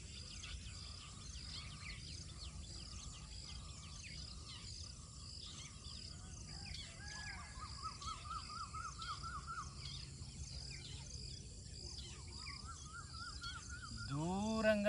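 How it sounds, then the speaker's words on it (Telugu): Outdoor nature ambience with many birds calling near and far, including crows cawing, chirps and trills scattered over a steady insect and cricket hum throughout. "వినబడుతున్న పక్షుల సౌండ్స్ అన్నింటినీ గమనించే ప్రయత్నం చేయాలి"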